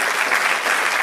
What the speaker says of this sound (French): Merci beaucoup d'applaudir très chaleureusement l'ex-députée et responsable plaidoyer du planning familial Alban Gaillot,